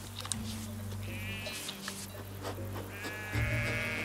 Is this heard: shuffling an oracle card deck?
no